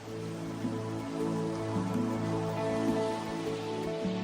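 Steady rain patters on a surface in the Thai wilderness, a constant soft hiss with low tonal hum beneath it, moderately quiet and continuous without any voices.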